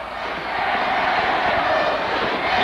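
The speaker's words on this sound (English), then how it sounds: "UST crowd already rejoicing here" Arena crowd at a 1993 UAAP men's college basketball finals game roaring as UST fans celebrate, a loud continuous wall of cheering that swells slightly and holds steady throughout.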